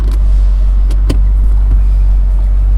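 A 2012 Shelby GT500 Mustang cruises along with a steady, loud low rumble of road and engine noise filling the cabin, broken by a few faint knocks and clicks.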